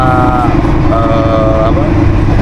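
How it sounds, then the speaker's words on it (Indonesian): A loud, steady mechanical engine drone with a faint high whine fills the space, as if inside a moving train. "suara mesin kereta ya"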